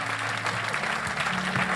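A church congregation applauds in a dense, steady round of clapping, with some voices and cheers faintly mixed in beneath the clapping.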